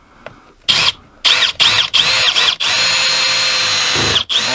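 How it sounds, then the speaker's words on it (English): A power drill bores a pilot hole for a lag bolt into a joist, heard as several short whining bursts followed by one long sustained run, loud and close with brief pauses between. "So let me drill a pilot hole for the lag bolt now."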